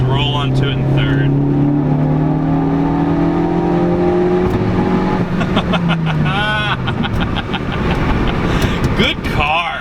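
A modified 2016 Ford Focus ST four-cylinder engine drones and then climbs as it accelerates in third gear, with a rising whine and raspy exhaust, loud and close throughout.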